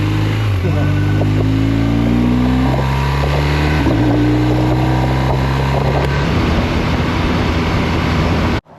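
A motorcycle carrying two riders pulls away on a winding Carpathian mountain road. The engine is loud and close and climbs through several gear changes, with wind noise and riders talking over it.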